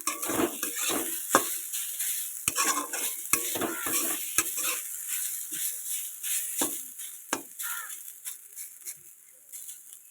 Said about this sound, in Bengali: দেখছো আমার আলুগুলো অলরেডি ভাজা হয়ে গেছে